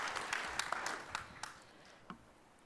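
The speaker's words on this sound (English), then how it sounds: "Give her a big round of applause" An audience at a cybersecurity conference speed debate claps, a brisk burst of scattered hand claps with a few louder individual smacks, thinning out toward the end.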